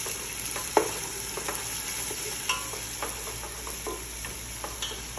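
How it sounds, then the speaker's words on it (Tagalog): Onion, garlic and ginger frying in olive oil with a steady sizzle, while a utensil stirs and taps against the pan in scattered clicks throughout. "Sapat yung olive oil at nilagyan ko na din yung onion. I-mix ko lang siya."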